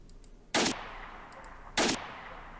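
Two loud, heavy gunshots from large firearms in the S.T.A.L.K.E.R. video game, spaced over a second apart, each a sharp broadband blast with a short decaying tail over a quiet background.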